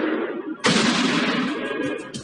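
A gunshot fired outdoors in a drop-versus-fire bullet experiment: one loud, sudden blast cuts in under a low rumble and rolls into a long echoing decay.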